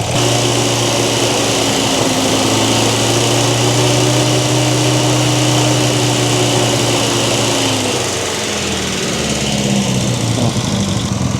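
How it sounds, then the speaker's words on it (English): The engine of a restored barn-find Sprite car runs steadily at raised revs, loud and close, holding a buzzy droning pitch for several seconds before the pitch shifts and settles near the end, with no voices. "Let's rev it up a little bit"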